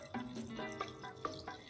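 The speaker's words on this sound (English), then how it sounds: "I'll add in 2 cups of water." Two cups of water poured into a pot of pasta sauce that already holds cold milk, chicken and pasta: a faint, brief splashing and trickling with a few drip-like plops.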